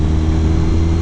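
A 2018 Kawasaki Ninja 1000 fitted with a Black Widow aftermarket exhaust, running with a steady, loud, deep engine drone and no speech.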